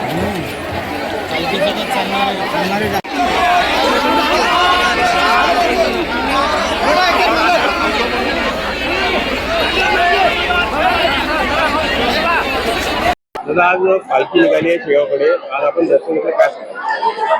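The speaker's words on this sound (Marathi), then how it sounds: "गर्दी वाढते" Dense crowd chatter and hubbub at a palanquin procession for Gajanan Maharaj, a steady loud babble of many voices that briefly cuts out near the end, then returns thinner and more scattered.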